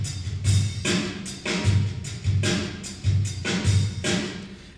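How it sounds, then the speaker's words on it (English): Stock Reason 4 drum loop with steady repeating kick and snare hits and bright hi-hat or cymbal wash, a tight even rhythm played loud and alone. "I'm going to start just with a drum loop that they have right in its stock Reason 4 drum loop."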